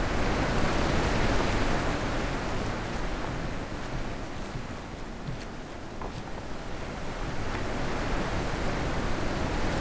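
A flowing river in the video game The Witness gives a continuous broadband rushing wash, steady and fairly loud, with no voices.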